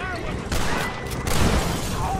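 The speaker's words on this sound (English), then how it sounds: "You throw Molotovs at me, huh?" In Red Dead Redemption, a thrown Molotov cocktail bursts with a short, rough blast and crackling roar lasting about two seconds, loud and close, with a voice talking over it.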